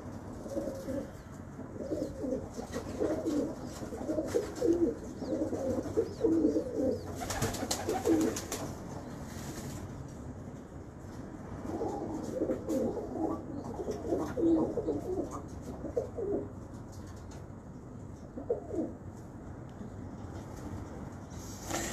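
Sialkoti pigeon, all black with a black eye ring, cooing in repeated low throaty bursts, with a pause around the middle and a steady background hum.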